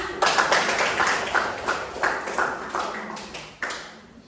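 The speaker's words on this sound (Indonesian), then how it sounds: "kita berikan aplaus untuk teman kita" A classroom of students clapping for a classmate: a short burst of close, sharp handclaps in an uneven rhythm that gradually thin out and fade after a few seconds.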